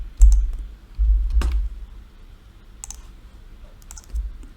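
Sparse, light keystrokes tap on a computer keyboard in short bursts over a low background rumble, with nobody speaking.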